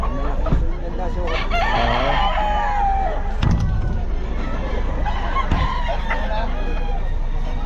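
White Kelso roosters crowing among many chickens at the crowded Bocaue pet market, loud and near, with several overlapping crows and clucks over steady market bustle and people talking.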